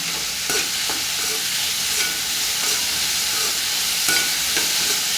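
Onions and curry leaves fry loudly in oil in a pan, a dense unbroken sizzle lasting throughout, close up, with faint stirring touches and no talking.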